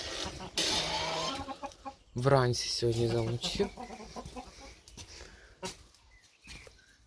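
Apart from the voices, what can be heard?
hens clucking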